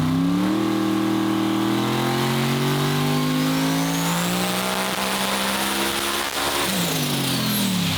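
Sorceress, a drag race car making over 4700 horsepower, roars through a full-throttle run, its engine note climbing steadily and loudly for several seconds before a sharp drop and renewed surge near the end, with no talk.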